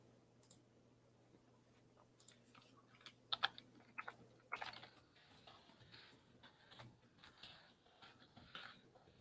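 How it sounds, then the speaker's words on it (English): Irregular clicking of keys on a computer keyboard, close and fairly quiet, with bursts of faster typing and a low steady hum behind it. "Sorry for the typing noises."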